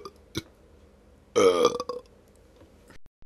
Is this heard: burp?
yes